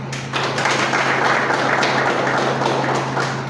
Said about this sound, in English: Please applaud them as well